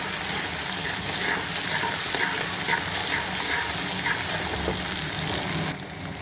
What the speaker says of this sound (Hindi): अब हम इसमें 1 टेबलस्पून लहसुन का पेस्ट डाल देंगे और इसको भी ब्राउन कर लेंगे ताकि लहसुन भी अच्छे से पक जाए।